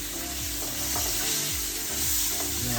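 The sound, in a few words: stirring curry in a pan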